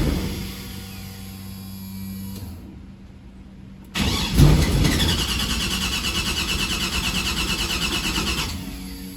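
A Pontiac Trans Am engine cranks with a steady starter whir, falls briefly quiet, then catches and runs roughly, loud and close, struggling to settle into a rhythm.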